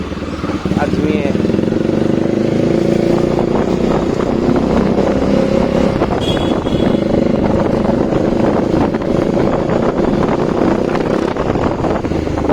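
A Bajaj Dominar 400 motorcycle fitted with a new aftermarket exhaust runs steadily nearby with a continuous low engine drone, mixed with wind buffeting.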